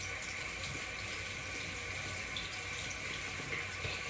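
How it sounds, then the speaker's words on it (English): A tap runs steadily into a sink for hand washing, a soft continuous water hiss close by with no talking. "all you're gonna do is you're gonna wash your hands"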